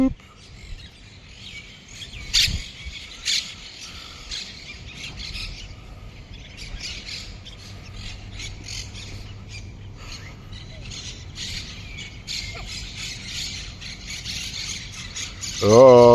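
Park birds calling while being fed bread, with scattered squawks and chirps over steady outdoor background, mixed with people talking nearby.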